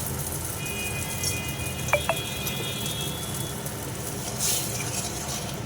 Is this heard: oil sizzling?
yes